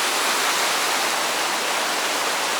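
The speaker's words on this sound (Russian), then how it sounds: "вода стекает сразу вниз, падает, образуется водопад" A mountain stream's waterfall pours straight down in a steady, loud, broadband roar, unbroken and close by with no voices.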